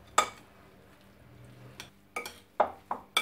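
Spoon working through a bowl of stuffing mixture of Chinese vermicelli tossed with a little olive oil for a stuffed chicken, making a few sharp, close clinks and scrapes at irregular intervals against a quiet background.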